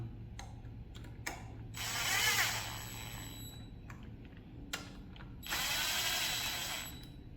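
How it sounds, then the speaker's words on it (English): A ratchet lightly snugs the bolts on an Alpha One Gen 2 sterndrive lower unit, with two bursts of quick clicking, close and fairly loud, separated by quieter handling noise and a few sharp knocks. "Lightly snug them up with a ratchet."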